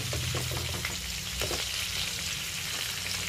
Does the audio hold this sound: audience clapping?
no